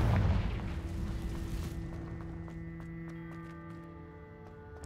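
A Confringo fire spell blast in Hogwarts Legacy, a loud booming burst at the start that decays into a lingering rumble with a steady ambient tone underneath.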